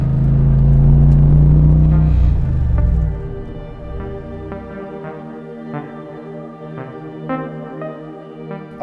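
LS V8-swapped Nissan 350Z engine rumbling loudly and close at first, then settling into a lower, steadier idle with small blips of revs.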